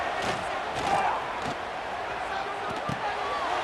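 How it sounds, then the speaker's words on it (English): A stadium crowd roars steadily on third down in the College Football 26 video game, Texas versus Ohio State, a dense continuous wash of cheering with a few thumps and louder swells. "3rd down, and the crowd really getting into it"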